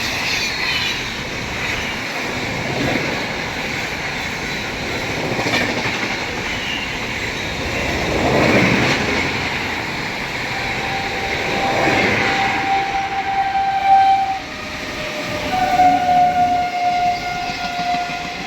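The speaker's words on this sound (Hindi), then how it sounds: "मध्य प्रदेश संपर्क क्रांति एक्सप्रेस।" Madhya Pradesh Sampark Kranti Express passing at Banmore station, a loud continuous rumble and rhythmic clatter of wagons close by, swelling and fading over about eighteen seconds without talk.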